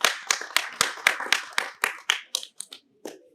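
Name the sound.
people clapping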